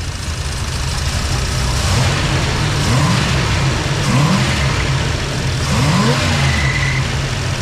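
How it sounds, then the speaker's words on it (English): A 1965 Plymouth Fury wagon engine fitted with Sniper 2 EFI runs loud and close, with a steady rumble, slight revving and short, rising belt squeals that repeat every second or so. "belt squeal, I gotta tighten it up"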